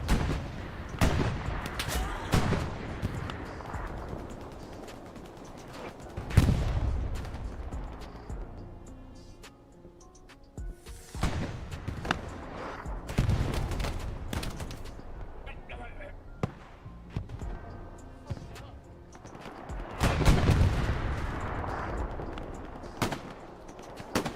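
Artillery shells and gunfire in the World War II shooter Hell Let Loose, during a competitive match on the Sainte-Marie-du-Mont map. Repeated heavy booms and sharp shot cracks, some close and loud, others distant, keep coming under intermittent talk.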